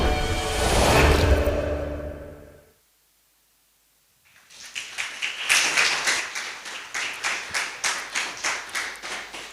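An audience applauds a motion design project shown during a talk, a burst of sound fades into near silence, then crisp, rhythmic clapping rises and carries on steadily, fairly close and clear, to the end.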